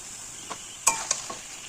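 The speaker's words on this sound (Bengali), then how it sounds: "এবার মশলার সঙ্গে মাংসটাকে ভালো করে 5 মিনিট কষিয়ে নেব।" Chicken pieces sizzle in spiced oil in a curry pan, with a few sharp scraping stirs of a spatula over a steady hiss.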